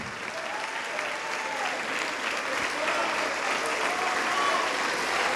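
A church congregation applauding during a sermon, a full, sustained patter of many hands clapping at moderate volume, steady throughout with faint cheering voices rising and falling within it.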